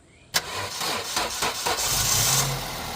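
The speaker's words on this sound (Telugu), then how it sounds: "ఒకసారి ఇంజిన్ కూడా స్టార్ట్ చేసి సౌండ్ ఎలా ఉన్నది ఏంటి అన్నది చూపిస్తాను" A used car, a Grand i10 or Maruti Suzuki SX4, cranks and starts with a sharp initial burst, then settles into a steady close idle with a slight rev.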